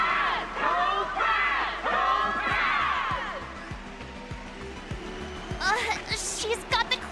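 Crowd in the Honkai Star Rail Aetherium Wars arena cheering and roaring at a duel, a loud sustained din of many voices with swelling shouts, a brief lull midway, then sharper excited cries near the end.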